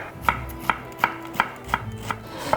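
Knife chopping onion on a board, six crisp evenly spaced thuds in a steady rhythm, close and clear with no talking.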